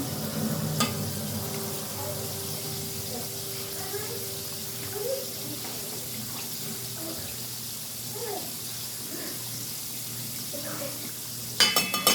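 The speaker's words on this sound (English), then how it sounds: "we're going to stir the butter and the Frank's Red Hot up" Butter and Frank's RedHot sauce stirred together in a hot pot, a soft steady sizzle with faint scraping throughout, ending in a brief louder clatter.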